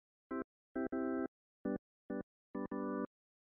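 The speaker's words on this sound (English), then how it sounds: "So this is the organ." Short organ chords in a reggae beat in FL Studio stab out in a rhythmic pattern, six hits with silence between them, some clipped short and others held slightly longer.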